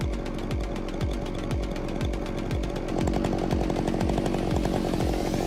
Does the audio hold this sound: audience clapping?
no